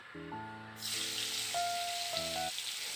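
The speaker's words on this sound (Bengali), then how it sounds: "এদিকে যে কড়াইয়ে ফোড়নগুলো ভাজা হচ্ছিল তো ভাজা হয়ে গেছে এবার আমি দিয়ে দেব এর মধ্যে পেস্ট করা মশলা" Spice paste sizzling as it drops into a kadai of fried tempering spices for a vegetarian fennel and pointed gourd dish, a sudden loud hiss that continues over soft background music.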